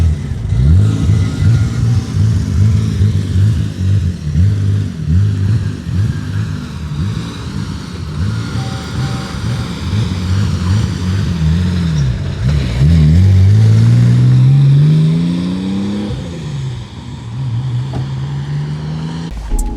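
A BMW 135i with an N55 engine runs loud and close, idling roughly, then revving up and down in a swooping climb and settling back toward idle.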